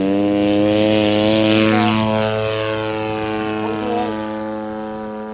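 An ultralight unmanned drone flying traffic pattern practice gives a loud, steady, close motor whine with strong buzzing tones that fade slightly as it moves away.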